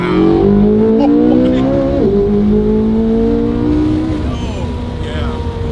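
A supercar engine drones loudly at low driving speed from inside the cabin, a steady deep note that rises and shifts with gear changes while people talk over it.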